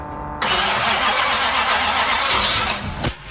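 A 1940 Ford engine cranks briefly, then catches and roars into a loud, steady running rumble for about three seconds before dropping off, close and alone with no talking.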